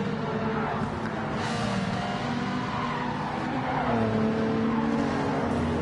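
Toyota Supra race car in Gran Turismo 7 roaring at steady high revs during an online lobby race, with tire squeal and other cars close by; continuous engine drone with shifting pitch, no talk.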